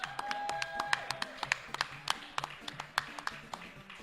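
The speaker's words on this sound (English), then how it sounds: "Let's give these guys a round of applause" A small group claps for the players at halftime of a Tecmo Super Bowl video game tournament final, with sparse, distinct hand claps and taps over a faint tonal game sound.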